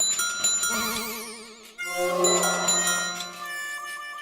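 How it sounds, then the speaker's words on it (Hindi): A bicycle bell rings with bright metallic tones, twice in quick succession, ringing out and fading slowly. "चंपक, जब भी साइकिल की घंटी बजती है ना, तो ऊंचा नीचा होते रहता है।"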